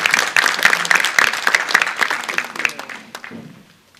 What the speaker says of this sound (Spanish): Denle el aplauso a Jesús si recibe la palabra esta mañana